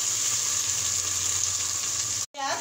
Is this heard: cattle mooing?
no